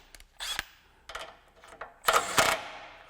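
A Milwaukee M12 subcompact impact wrench (3049-20) fastens a nylock nut in short bursts, with a few brief whirring and rattling pulses that build to two louder, longer hammering runs near the end.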